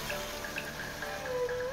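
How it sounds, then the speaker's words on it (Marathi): Water trickles and drips steadily into a pot of boiled potatoes for aloo matar, a soft, close, continuous pouring with faint splashy ticks throughout. "आता मी ह्याच्यामध्ये थोडंसं पाणी घालून"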